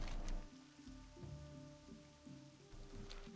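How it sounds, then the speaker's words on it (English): Rain falls steadily in the Stranglethorn jungle of World of Warcraft, a soft continuous patter on surfaces, faint and even, with no voices. "And it's raining, because of course it is."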